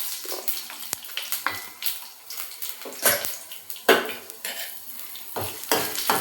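Urad dal and chana dal roasting in a pan, with repeated scraping and clinking of a spoon against the pan and a light sizzle beneath, close and uneven in rhythm.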